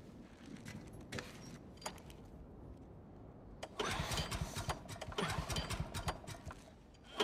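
A generator engine in The Last of Us Part II sits quiet with faint clicks, then sputters to life and settles into a loud, uneven mechanical chug.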